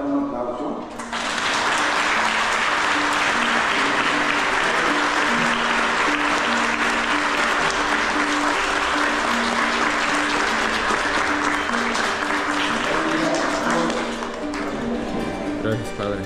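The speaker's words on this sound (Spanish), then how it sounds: "Por eso vamos a dar un aplauso." Audience applause at a primary school graduation ceremony following a church service bursts in after a second and continues loud and sustained, with a steady tonal sound and voices running underneath the clapping.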